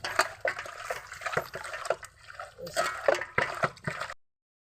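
Live chewa fish being rinsed and scrubbed with salt in clean water, with irregular close splashes and sloshing bursts that rise and fall throughout.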